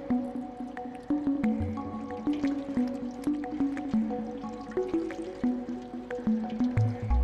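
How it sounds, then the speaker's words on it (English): Water drips and splashes in a repeating pattern of soft plops and squishy drops in the video game Stray, layered over a gentle ambient musical tone, with no talking. "Some water."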